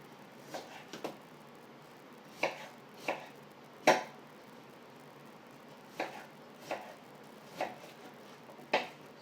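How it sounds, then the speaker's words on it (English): A knife cuts Japanese daikon radish into thin strings on a board, giving about ten sharp, separate knocks at an uneven pace, close by with a quiet room behind. "Get these chopped up into little strings."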